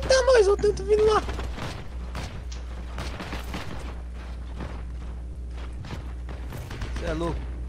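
Bursts of gunfire in the video game Heroes & Generals crackle repeatedly over a steady low hum, with a voice talking at the start and end.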